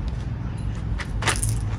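Small metal blank cartridges click and clink as they are pressed one by one into the magazine of a compact BLOW Mini9 blank pistol, close and crisp with a brighter jangle near the end.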